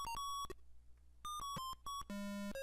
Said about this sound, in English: you can hear the timer going, so you know you have a time limit